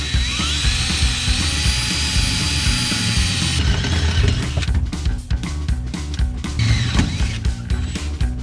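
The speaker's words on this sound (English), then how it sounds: "we'll get the drill out and we'll carefully drill those holes and put some nutserts in" A drill runs steadily, boring holes for nutserts while seat rails and a demister are fitted in a vehicle footwell. It whirs continuously at first, then cuts into faster, choppy bursts, loud and close with no voices.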